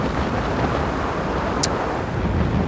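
Strong wind on a mountain top roars and buffets a wind-protected microphone, a steady loud rush for a few seconds with no voices.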